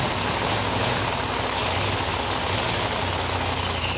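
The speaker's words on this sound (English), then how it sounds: "Barry Mitchell, low ET of the race so far, in the white Mustang." A white Ford Mustang drag race car at Silver Dollar Raceway makes a sustained, loud, broadband engine roar that drones steadily without breaks, no voices.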